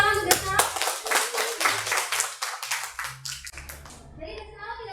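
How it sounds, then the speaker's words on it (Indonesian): Students in a classroom clap together in a quick burst that soon thins out, with children's voices and chatter heard under and after the clapping. "kita beri tepuk tangan untuk Desaro."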